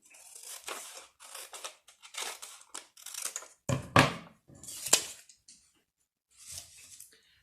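Paper being cut in half with scissors, a string of crisp snipping bursts, close and fairly loud, with brief pauses between cuts and a final short snip after a gap.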